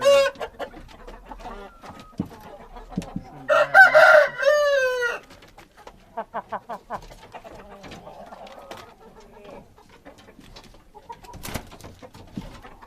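Indian game (Hint) rooster crows once loudly mid-clip, with hens clucking and other fowl calling around it at close range in a poultry yard, interspersed with quieter pecking and scratching sounds.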